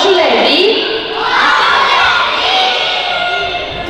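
A theatre audience of children and adults at a holiday show shouts together to call Santa Claus, a loud sustained crowd yell that swells and holds for several seconds.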